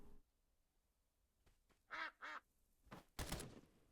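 A duck in the video game Escape from Duckov gives two quick, clear quacks, followed by a couple of louder bursts of game noise against a quiet background.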